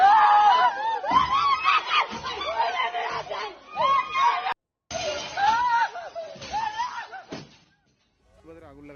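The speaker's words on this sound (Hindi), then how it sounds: "घर में मौजूद महिलाएं मदद के लिए चिल्लाती रही" Women inside a house shouting and screaming for help while a mob attacks it, with frantic overlapping cries and a muffled crowd, loud and close, broken by a brief drop-out near the middle.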